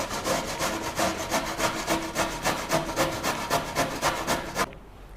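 Carrots grated by hand on a box grater for a carrot lime chili salad, a brisk run of rhythmic rasping strokes, about three per second and close up, stopping abruptly near the end.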